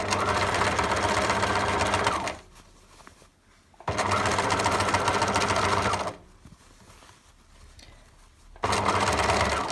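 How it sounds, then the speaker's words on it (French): Sewing machine stitching fabric for a face mask, about 2 mm from the edge, heard as two long, loud, steady runs with quiet pauses between them and a third run starting at the end. "on va coudre à 2 mm du bord. On n'oublie pas le point d'arrêt."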